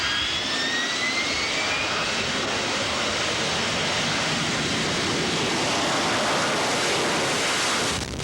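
Aircraft engines roar during flight operations aboard the amphibious assault ship USS Peleliu, a loud continuous broadband rush that holds steady for several seconds and fades slightly at the end.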